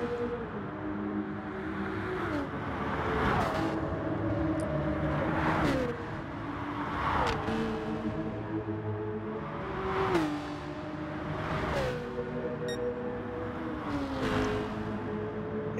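A Gr.3 race car in Gran Turismo Sport on the Tokyo expressway central outer loop roars steadily, its engine note climbing and then dropping sharply with each gear shift in a repeating cycle of about every two seconds.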